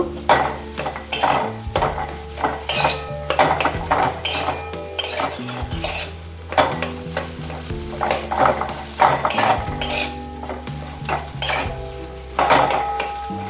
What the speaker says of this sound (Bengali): দেখুন ভালো করে মশলাটা এইভাবে ভেজে নেবেন শুকনো কড়ায় কম গ্যাস করে